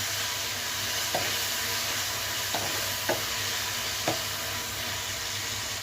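Prawn gravy bubbles and sizzles steadily in a pan while a spoon stirs it, giving a constant frying hiss broken by four soft scraping strokes, close and without speech.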